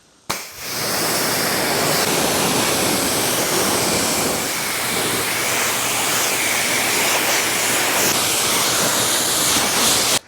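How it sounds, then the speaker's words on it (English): A strong pressure-washer spray rinses dirt and sand off the paint of a large Ford Krietz Customs Edition truck during a pre-wash, a loud continuous rushing hiss that starts abruptly and holds steady for about ten seconds. "Now it's blasted off the paint for a safer contact wash."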